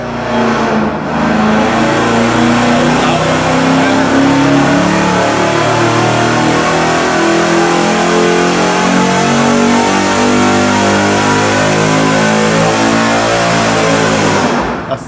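Car engine on a dynamometer revs hard through a 3-inch exhaust, a loud, sustained growling roar climbing in pitch with steady harmonics, cutting off sharply at the end.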